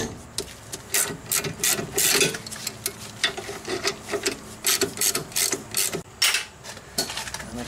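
Ratchet loosening the upper 17 mm brake caliper bolt on a 2002 Mitsubishi Lancer, heard as a close run of quick metallic clicks and rasps in repeated bursts with no talking.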